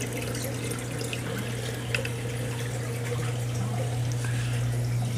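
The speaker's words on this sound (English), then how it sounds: "Now we got another little container. Fill it up with tank water." Aquarium tank water runs steadily into a small container, a continuous close trickle and splash over a low hum, with no talking.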